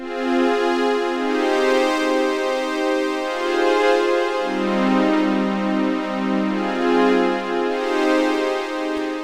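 Sustained synth keys with a soft string-like tone play a slow chord progression in a beat-making session, smooth and loud with no talk.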